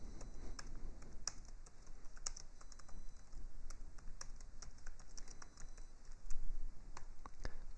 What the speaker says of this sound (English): we can type in the names of all the vote getters